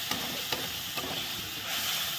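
Spice masala with a splash of water being sautéed and stirred in a pan for a cabbage-paneer curry, a soft hissing sizzle broken by a few light spoon scrapes, brief and close.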